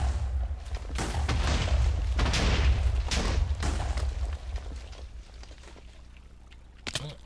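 TNT detonates underground in a Minecraft cave system with a cluster of muffled, rumbling booms in quick succession that trail off, followed by one last sharp burst.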